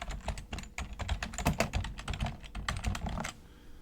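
Steady, close typing on a computer keyboard while entering a search phrase into a legal research database: a brisk run of clicky keystrokes with brief pauses, no talk.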